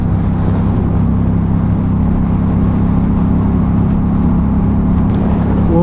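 Motorcycle cruising along a quiet suburban road with little traffic, its engine a loud, steady drone mixed with wind rush that holds even and unbroken throughout.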